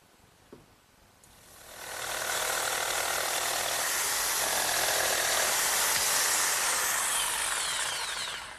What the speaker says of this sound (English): Now my jigsaw, set up with a nice fresh blade, does a real good job cutting out that notch.